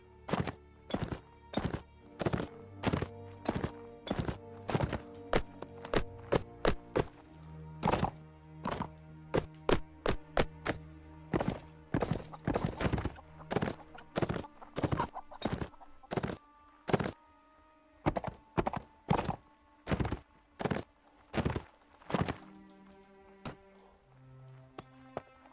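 Horse hooves thud in a steady, fast rhythm of hollow knocks as a rider gallops around a town in Mount & Blade Warband, with brief pauses and the beat shifting toward the end.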